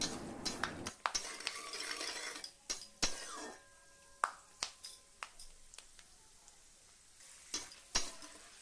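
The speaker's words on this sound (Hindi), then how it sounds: "सरसों के तेल पे अब मैं बादाम को थोड़ा सा फ्राई कर लूँगी" Almonds frying in mustard oil in a wok give a faint, steady sizzle broken by sharp clicks and pops as the nuts are stirred against the pan. The pan is close by and there is no talk.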